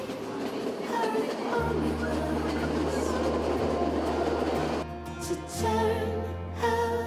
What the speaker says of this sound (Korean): 기차는 어느덧 차밭으로 들어선다.